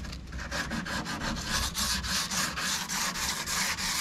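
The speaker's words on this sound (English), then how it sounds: "just sand the edge lightly here with," Edge of a varnished boat table being hand sanded with 220-grit sandpaper, steady close back-and-forth rasping strokes in an even rhythm.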